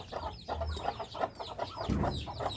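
Chickens cluck on a farm where they are fed sweet grass. Repeated close clucks and short calls overlap in a steady stream, with no talk.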